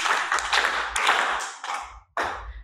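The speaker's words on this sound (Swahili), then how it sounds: "Watoto tumpigie mwalimu makofi." A group of children clap for their teacher at a gathering, bursts of close, uneven hand claps that pause briefly, then resume strongly before the end.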